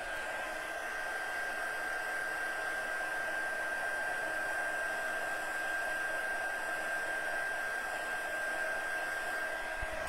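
A hair dryer blows continuously and close at steady volume, a constant whooshing hiss with a high motor whine, drying an embossed papercraft piece with plastic underneath.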